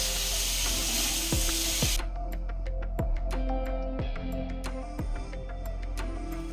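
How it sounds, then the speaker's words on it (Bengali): Chicken pieces fry in butter with salt and pepper, starting with a loud sizzling hiss that gives way to quieter crackle and repeated sharp clinks of utensils against the pan. "আগে আমি চিকেনটাকে খুব ভালো করে একটু ভেজে নেব"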